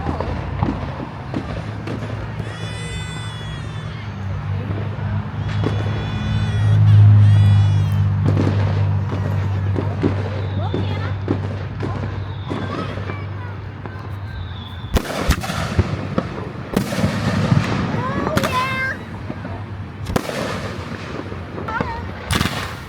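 Fireworks bursting outdoors, a series of irregular booms and crackles spread across the clip, some deep and rumbling, with people chatting nearby between the blasts.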